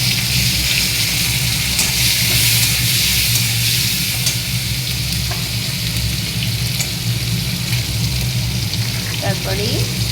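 Onions and tomato frying in the oil used to fry hilsa fish, a steady loud sizzle and crackle throughout, with a voice talking over it.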